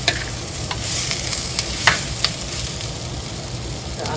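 Eggplant moju being stirred and fried in a pan, a steady close sizzle with scattered scrapes and clicks of the spoon against the pan, no voices.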